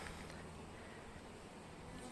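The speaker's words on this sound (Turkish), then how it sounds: "Kestane için burada bırakmış olduğum arılar var." Steady, dense buzzing of many honey bees around a hive kept for chestnut honey, continuous and close, with no voices.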